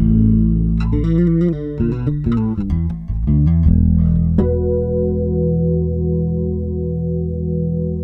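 Bass guitar notes thickened by a deep octave effect from a Boss OC-2 Octave pedal, a quick busy phrase followed by one long, heavy note sustaining to the end.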